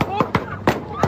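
Gunfire erupting in a park during a fatal shooting: four sharp, loud bangs spaced unevenly over about a second, fairly close and distinct.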